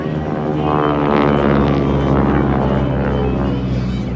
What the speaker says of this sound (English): Jeff Hartke doing a beautiful job bringing that airplane around. The L-3 now at show center, built by the Taylor craft.